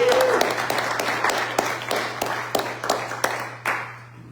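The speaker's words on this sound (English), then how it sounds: "Let's give him a big applause." Applause at a church fellowship service, a few distinct claps standing out over a softer crowd wash that thins and fades toward the end, with a steady low hum beneath.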